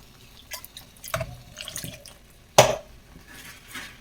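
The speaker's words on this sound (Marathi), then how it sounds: "मी यामध्ये थोडंसं पाणी ॲड करणार आहे" Water pouring into a bowl of raw mango pulp up close in a few short splashy bursts, with one sharper, louder splash partway through.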